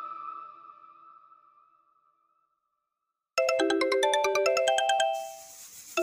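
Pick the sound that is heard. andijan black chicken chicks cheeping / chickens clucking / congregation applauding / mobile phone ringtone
mobile phone ringtone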